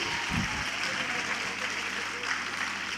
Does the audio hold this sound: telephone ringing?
no